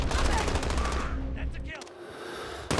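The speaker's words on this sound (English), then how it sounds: "Enemy sentry gun active." Rapid automatic gunfire from an enemy sentry gun in a Modern Warfare game, loud and dense bursts with a break near the middle, then quieter crackling shots trailing off.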